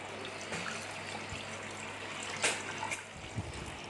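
Water poured into a clay cooking pot over taro pieces, a soft steady trickle and splash close by with a couple of brief clinks, no voices.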